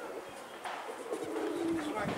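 Pigeons cooing around a rooftop loft as the birds are let out to fly, soft low coos with a faint sustained tone, heard over steady outdoor background noise.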